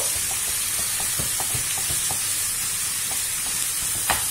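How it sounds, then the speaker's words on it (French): Ground meat with a splash of water sizzles in a pan, a steady hiss punctuated by soft rhythmic scraping taps as it is stirred and broken into crumbles. "Là, je vais tout mélanger pour tout émietter."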